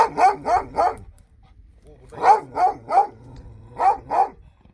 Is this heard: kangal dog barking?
yes